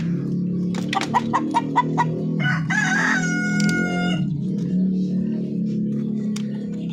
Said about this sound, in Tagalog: maingay yung ating rooster